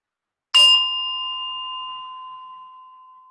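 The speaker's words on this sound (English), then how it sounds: "as you hear the sound of the bell, you're just going to follow it till it disappears" A meditation bell struck once, ringing clear and bright with a sharp attack, then sustaining a steady tone that slowly fades away over several seconds in silence.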